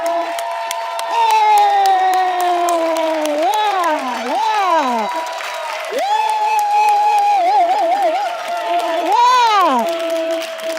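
A large crowd at a live evening event in Atlanta cheers and whoops loudly, a continuous roar with rising and falling shouts swelling throughout.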